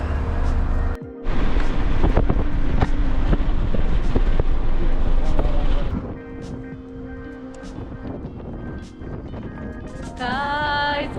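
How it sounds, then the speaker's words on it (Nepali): Strong gusting wind at a beach in Galveston, loud roaring buffeting against the microphone, easing partway through into lighter steady wind with faint background sounds. "आज बेकार बाहिर निस्किए जस्तो भइरहेको छ कि यस्तो चर्को हावा छ"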